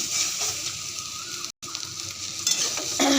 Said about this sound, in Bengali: সোয়াবিনগুলো ভেজে নিচ্ছি